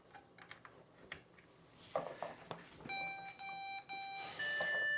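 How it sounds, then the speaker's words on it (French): A mini PC sounds a beep code at power-on: two short electronic beeps followed by one long tone, clear and close over faint background clatter. "ça fait deux bips normaux, enfin courts, et puis un bip long"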